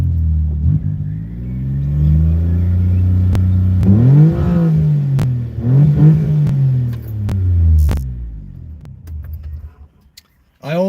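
A car with a three-cylinder engine and modified exhaust, close and loud, idling with a deep throb and then revving up and down in several rising and falling sweeps before cutting off, with a voice talking briefly over it.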